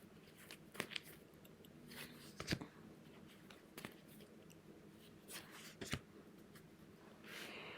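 Playing cards being pulled from a deck and shuffled close up, a series of sharp papery snaps and riffles at irregular intervals over quiet room tone.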